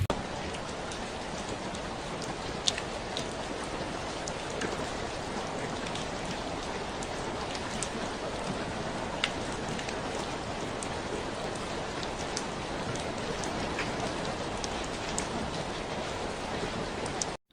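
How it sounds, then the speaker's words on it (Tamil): Steady rain falls during a rope car ride at Malampuzha Dam, a dense, even hiss of drops with scattered sharper patters, constant and fairly close for the whole stretch, with no talking. "நாங்க ரோப் கார்ல வந்து நாங்க ஏறுனதுமே ஸ்டார்ட் ஆன மழை"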